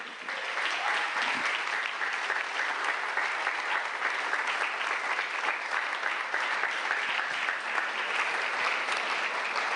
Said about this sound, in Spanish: Dele el aplauso al Eterno